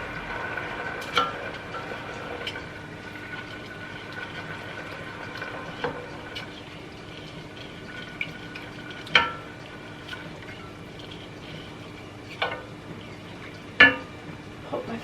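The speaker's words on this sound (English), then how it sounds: "give that a stir" A spoon stirs vegetable stock in a pot, giving soft scraping and gentle liquid swirling with a few sharp clinks against the side, quiet and close throughout.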